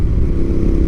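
Royal Enfield Interceptor 650 motorcycle fitted with a DNA air filter, its engine running loud and steady with a deep, throbbing exhaust and a rougher intake rush layered over it.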